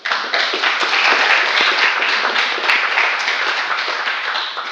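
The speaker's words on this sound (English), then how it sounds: "Can we give her a round of applause?" Audience applause at a women's rowing press conference, a steady wash of many hands clapping that fills the clip at moderate loudness with no talk over it.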